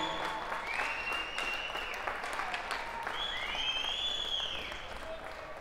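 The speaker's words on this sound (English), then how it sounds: "That's the salute from the crowd" Sustained crowd applause at a junior ice hockey playoff game between the Wainwright Bisons and Cold Lake Ice, a dense steady wash of clapping filling the arena, with whistles and cheers rising over it.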